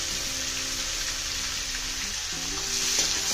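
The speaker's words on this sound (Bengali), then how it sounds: "শুটকি মাছটাকে সুন্দর করে ভাজা করে নেব।" Dried fish sizzling steadily in a pan on a lowered gas flame, seasoned with turmeric; a close, continuous crackling fry with a faint tonal hum underneath and no talking.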